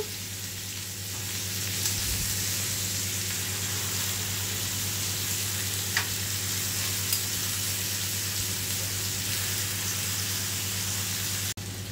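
Malai chicken drumsticks frying in a pan, a steady, even sizzle that holds for several seconds with only a couple of faint clicks.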